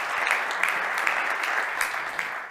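A conference audience at a technology event claps in sustained, even applause, a dense crowd of hands heard at moderate distance without voices.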